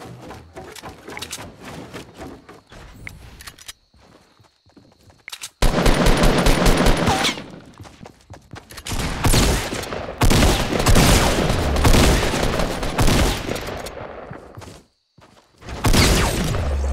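Shotgun blasts in Fortnite Battle Royale, heavy booming shots with a pump shotgun and explosive rounds, loud repeated bursts clustered in bouts with short gaps and brief quieter stretches between.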